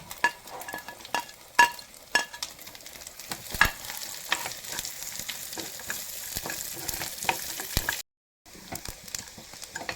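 Cashew nuts and raisins fry in a pan with coconut for ada pradhaman, a soft steady sizzle with scattered crackles and pops, fairly quiet and close.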